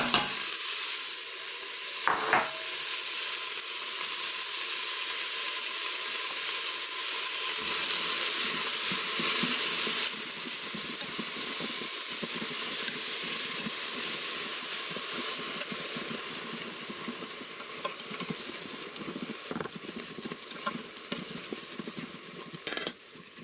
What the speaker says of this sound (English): I have my beef browned and put the onions in.